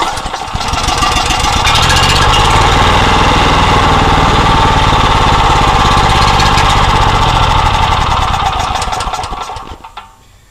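A generator engine cranks and fires on starting fluid, running loud and close with a rough, rapid chugging beat for several seconds before sputtering and dying away.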